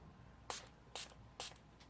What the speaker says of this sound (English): this is a Fix and Perfect makeup setting spray. So I'm just doing a little